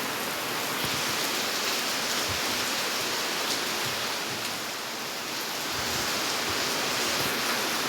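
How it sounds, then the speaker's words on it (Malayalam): Heavy rain pours down in a dense, steady hiss that stays loud and even from start to finish, with no voices. "ഭയങ്കര മഴയാണ്"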